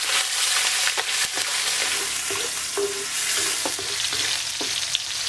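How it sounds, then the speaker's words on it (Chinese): Pork stir-frying in hot oil in a wok gives a dense, continuous sizzle, with occasional scrapes and knocks of a spatula stirring the meat, close and steady with no talking. "先炒肉"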